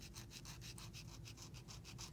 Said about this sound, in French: donc je continue à limer.